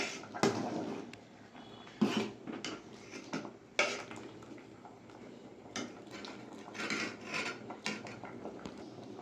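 A spoon stirring gota seddho, a Bengali whole-vegetable and lentil stew, in a cooking pot, with a run of close metallic scrapes and clinks against the pot's sides, some sharper knocks between softer swishing movements.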